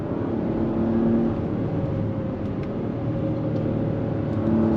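Steady, loud engine drone of a turbocharged 2022 Acura MDX Type S SUV with a 10-speed automatic, rising and dropping in pitch through quick downshifts, heard continuously from inside the cabin.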